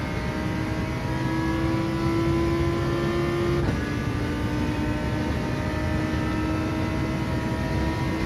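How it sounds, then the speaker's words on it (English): Ferrari race car engine droning steadily at high revs in a racing video game at Fuji, a sustained tonal whine that holds one pitch, then drops slightly as it shifts, continuous and alone without speech. "It's got such good acceleration, though, the Ferrari."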